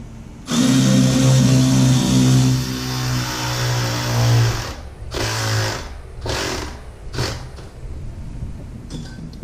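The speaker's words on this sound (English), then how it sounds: "This way I can get my ratchet right on the end" A ratchet tightening a V-band clamp on the MBRP downpipe of a 2005 GMC Sierra 2500HD, a long fast buzzing run of clicks, then several shorter bursts, loud and close with no talk.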